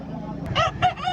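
A fighting rooster crows briefly in short, rising bursts, close by, with faint background noise, in Lipa City, Philippines.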